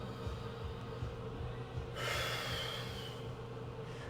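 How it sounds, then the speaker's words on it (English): A single deep breath taken during a lion heart breathing exercise: one long, breathy rush of air lasting over a second, close to the microphone, over a low steady hum with no talking. "I'll connect to my breath, the lion heart breathing, 6 seconds in, 7 seconds out"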